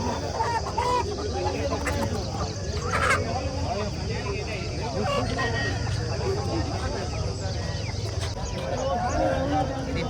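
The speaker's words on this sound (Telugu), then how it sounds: "ఇది ప్యారెట్ బిగ్ లాంగ్ టెంపర్టైల్ సంబంధించిన పుంజు అండి" Rooster calls rise out of the dense, steady din of a Mydukuru village poultry market, with many voices talking throughout and animal noises mixed in.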